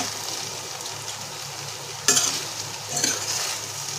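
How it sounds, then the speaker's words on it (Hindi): Vegetable pulao with mint leaves being stirred in a pan, with a soft steady sizzle throughout and two brief louder scrapes of the spoon near the middle and toward the end. "अब मैं इसमें ये पुदीने का पत्ता डाल दूंगी और अब मैं इसे हिलाऊंगी"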